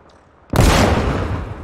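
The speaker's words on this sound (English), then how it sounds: "Rocket." In ARMA Reforger, a rocket launches with a sudden sharp blast after a quiet moment, followed by a heavy rumbling roar that slowly fades, loud and close.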